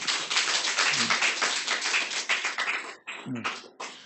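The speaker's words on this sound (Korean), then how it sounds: "박수로 감사를 드립니다" A church congregation at a Sunday evening service claps in thanks, a loose run of hand claps with a brief pause near the end before it resumes, moderately near, with some voices mixed in.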